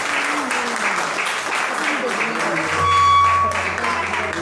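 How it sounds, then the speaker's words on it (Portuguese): A church congregation claps in praise during a worship service, a broad wash of hands with voices mingled in. Near the end a steady tone rises and sustains as the clapping continues. "as palmas louvem ao Senhor Jesus"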